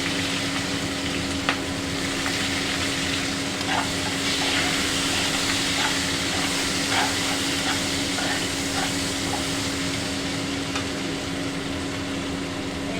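Onions frying in a pan for a prawn and cucumber dish, a loud continuous sizzle and hiss with scattered stirring clicks over a steady mechanical hum.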